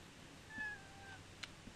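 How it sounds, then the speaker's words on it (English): A pet cat gives a single faint, thin meow in a quiet indoor room, followed by a couple of soft small clicks. "My cat was jonesing for attention"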